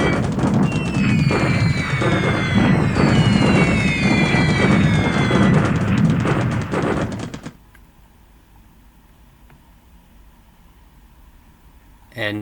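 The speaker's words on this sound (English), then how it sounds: "now the airstrike" Airstrike bombing in the War in the Pacific: Admiral's Edition strategy game, a dense rumbling barrage of bomb explosions with crackling bursts lasting about seven seconds, then cutting to near silence before a brief final thump.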